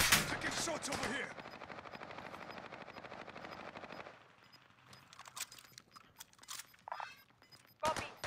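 Rapid automatic gunfire in the video game Warzone, a dense burst of shots for a few seconds followed by scattered fainter shots and game noise, at moderate volume.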